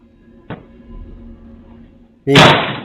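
A door in security camera footage: a short knock-like thud, a stretch of low hum, then one loud sharp bang like a slam.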